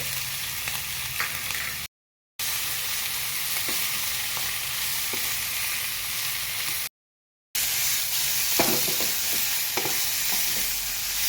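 Pork belly frying in its own rendered fat, a steady loud sizzle with occasional stirring scrapes, broken by two short silent gaps.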